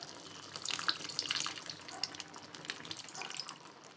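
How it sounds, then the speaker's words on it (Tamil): Tamarind extract is poured into simmering curry made with elephant foot yam, a soft, continuous watery trickle and splashing that stays faint and close for several seconds. "இப்போது புளி கரைசல் சேர்த்திக்கலாம்"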